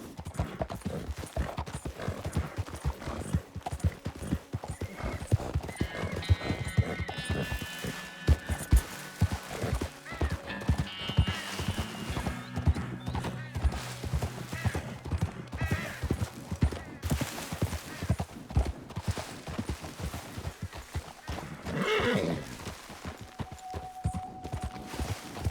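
Horse hooves clip-clop steadily while riding in Red Dead Redemption 2, a continuous close rhythmic trot over ground, with faint other game sounds and a brief tonal murmur near the end.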